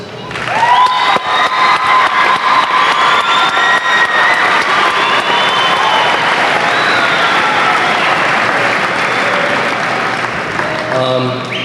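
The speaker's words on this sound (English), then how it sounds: "I think you all deserve one more round of applause." A graduation crowd at the Hurricane High School 1997 ceremony breaks into loud, sustained applause with cheering and whoops, steady and dense for the whole stretch before fading slightly at the end.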